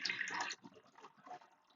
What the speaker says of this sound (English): So let's put a little more water in there.